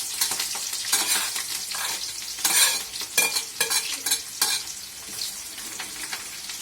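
Onions, chili and coriander sizzling and being stirred in hot oil in a kadai, a steady frying hiss with bursts of scraping stirring strokes, close and alone.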